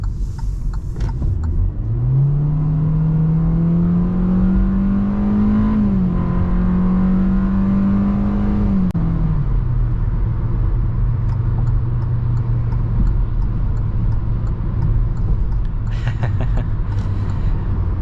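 A 2022 Hyundai Accent with an IVT transmission accelerates from a low idle, its engine note climbing smoothly and holding steady before dropping to a lower cruising hum, heard close from inside the car.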